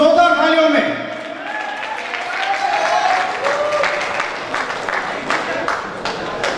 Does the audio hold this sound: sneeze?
no